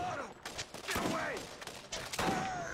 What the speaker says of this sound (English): It's called a shotgun to the head.